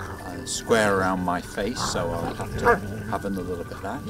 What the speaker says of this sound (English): Excuse the dogs